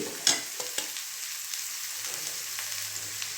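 Sundal frying in a pan with garam masala, chilli powder, cumin powder, coriander powder and Kashmiri chilli powder, a steady soft sizzle with a sharp scrape near the start and light stirring clicks throughout.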